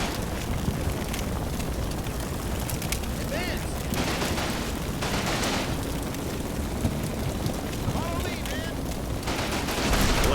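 Gunfire poured onto an enemy position in the WWII video game Combat Mission, a steady stream of rapid, overlapping shots and blasts that runs the whole time at moderate loudness, with bursts of rain-like crackle.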